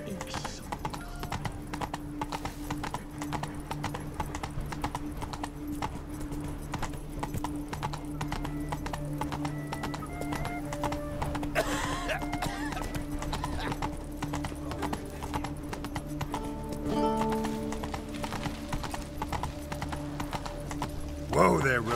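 In the video game The Witcher 3, the horse Roach gallops with rapid, steady hoofbeats throughout, and a whinny rises near the end, over game music and a voice speaking.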